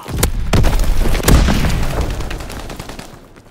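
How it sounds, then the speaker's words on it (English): Enemy artillery booms and rapid gunfire in Call of Duty: WWII, team deathmatch on Groesten Haus: heavy blasts land near the start and middle over a continuous crackle of rifle and machine-gun shots that slowly fade. "Incoming enemy artillery!"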